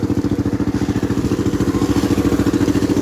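A tractor engine runs close by, its loud, even, rapid putter holding a steady rhythm throughout with no pauses.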